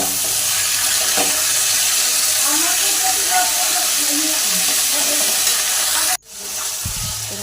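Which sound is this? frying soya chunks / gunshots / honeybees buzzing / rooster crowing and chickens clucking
frying soya chunks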